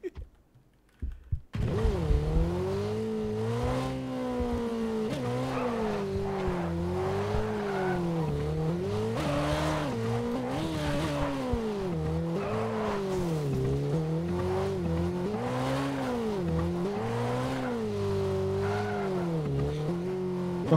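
After a brief pause, a motorbike engine in the video game PUBG drones continuously, its pitch rising and falling as the throttle is worked again and again.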